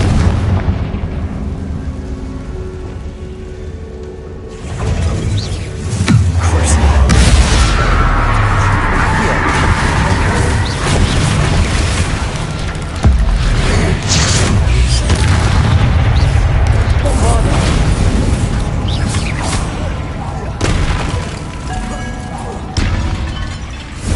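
Confringo fire curse in Hogwarts Legacy going off as a run of heavy, booming explosions with crackling bursts, loud and sustained across the whole stretch with several sharp hits.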